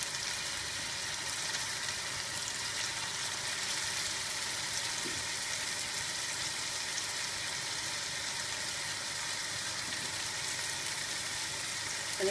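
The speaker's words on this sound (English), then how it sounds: "just place some of the meat into the pan to brown" Meat browning in batches in olive oil in a pan for Greek stifado, a steady broadband sizzle and fry that holds evenly throughout without breaks, with no talk over it.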